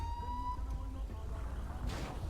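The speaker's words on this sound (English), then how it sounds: "We're gonna turn off that siren." Police car siren in the GTA 5 video game, a faint wailing tone that trails off over a steady low rumble, with no talking.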